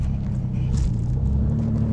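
A full-size jeep drives past close by, its engine a steady low rumble that stays loud and even throughout, with no talk over it.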